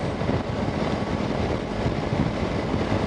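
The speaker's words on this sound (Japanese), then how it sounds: "エンジンはまだ7000回転回ってるけど、" A Suzuki V-Strom 250 motorcycle cruising on a highway at 7000 rpm, its steady engine drone mixed into heavy, continuous wind rush with no talking.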